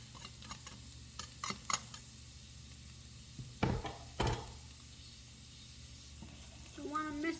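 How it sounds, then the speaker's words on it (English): Garlic sizzling in a hot pan during a broccoli, chicken and rice dish, a low steady fry punctuated by a few sharp clatters and taps of utensils, fairly quiet and with no talk. "I'm going to add the garlic, yummy, yummy garlic"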